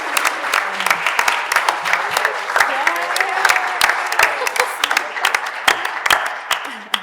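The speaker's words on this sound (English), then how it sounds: "One more round of applause just for the whole weekend." Audience applause closing a weekend of art and identity panels, a steady dense clapping from a full room that holds evenly for several seconds before tapering slightly at the end.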